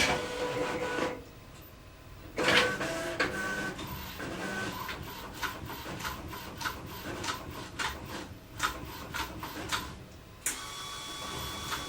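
A DTF printer running a nozzle check, with the print head carriage shuttling back and forth in repeated mechanical passes, whirring and clicking with brief louder bursts.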